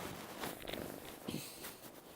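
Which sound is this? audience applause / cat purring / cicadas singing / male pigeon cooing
cat purring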